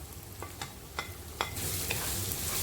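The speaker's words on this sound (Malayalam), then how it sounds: "അതിലേക്ക് സവാള ചേർത്തിട്ട് വഴറ്റി കൊടുക്കാം" Sliced onions sautéing in a hot pan for chicken cutlets, with a steady sizzle and several sharp spatula scrapes. The frying hiss grows louder and fuller toward the end.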